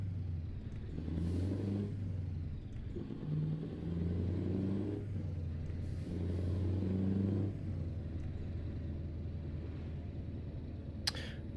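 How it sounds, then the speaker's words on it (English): Truck engine in Euro Truck Simulator 2 drones steadily throughout, a low rumbling hum with slight rises and falls in pitch as it revs, close and continuous with no talk over it. "Why did they have to have this engine sound on here for?"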